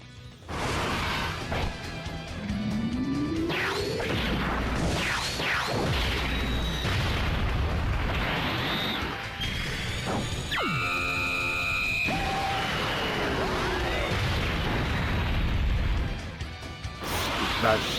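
Explosive attack animations from Dragon Ball Z Dokkan Battle: loud booms, smashing crashes and rising energy whooshes play continuously for the whole stretch, with a voice talking over them.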